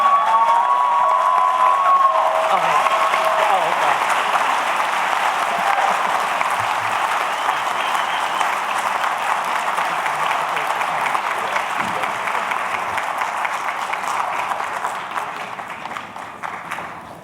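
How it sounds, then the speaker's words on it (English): Sustained applause from a large audience at a Martin Luther King Jr. commemorative ceremony honoring an award recipient, a dense steady roar of many hands that holds loud throughout and tapers slightly at the end. "All right, now you get to clap again."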